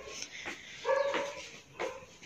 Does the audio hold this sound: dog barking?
yes